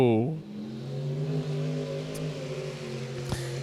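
Oval track cars on a local speedway launch from the start of a heat race, engines revving up loud and near then holding a steady mid-pitched drone as the pack pulls away, with a sharp knock near the end.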